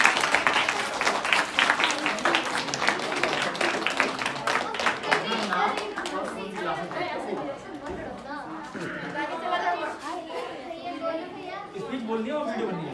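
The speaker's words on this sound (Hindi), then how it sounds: "जोरदार तालियां" An audience at a school program claps loudly at first while children chatter, then the clapping fades into a mix of kids' voices and crowd chatter for the rest of the stretch.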